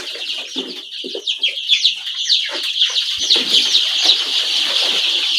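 Dense chorus of young chicks in a brooding house, constant high chirping and cheeping with many overlapping calls, fairly loud and close, with no talking.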